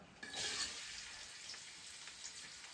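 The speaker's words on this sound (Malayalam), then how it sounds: "നമുക്ക് ഉള്ളി ഒന്ന് റോസ്റ്റ് ചെയ്തെടുക്കാട്ടോ" Onions roasting in a pan give off a faint, steady sizzling hiss, with a slightly stronger crackle early on and then an even, quiet fizz.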